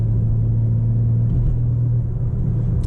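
A 2023 BMW M4 Competition Convertible cruising in sixth gear at night, its engine a steady deep rumble heard from inside the cabin, loud and continuous with slight road noise.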